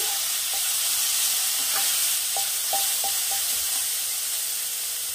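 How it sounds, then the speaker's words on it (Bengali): Chicken frying in a pot gives off a steady loud sizzle and hiss, with a handful of light metallic spatula taps scattered across the middle. "ভালো করে চিকেনটাকে ভেজে নিয়েছি"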